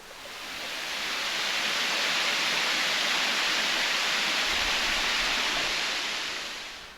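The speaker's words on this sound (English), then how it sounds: "there's a very cool waterfall behind me." A waterfall pours in a steady, dense broadband rush, fading in at the start and out at the end, with no voices.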